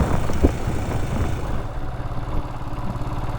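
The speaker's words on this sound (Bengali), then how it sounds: "এই রকম একটা গিয়ার বক্সে আমার মনে হচ্ছে আওয়াজ হচ্ছে" A rented motorcycle on a hill ride from Siliguri to Majhidhura gives off a low, steady engine and gearbox drone in first and second gear at high revs, fairly close and continuous, with a couple of brief knocks early on.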